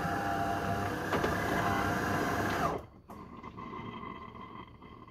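A Delonghi coffee machine starting its descaling cycle gives a steady loud mechanical hum and whir that cuts out abruptly partway, followed by a softer lower drone with faint clicks.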